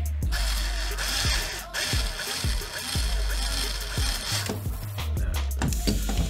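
A hand tool ratchets as bolts are tightened on a WPL B16 RC truck, giving a series of quick clicking strokes at close range, with a person talking in between.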